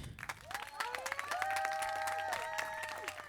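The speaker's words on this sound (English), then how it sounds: "can we get a round of applause for the powerful vocalist?" An outdoor arts festival audience in a park claps for a vocalist, a fairly faint, steady patter of applause with scattered whoops and voices rising over it.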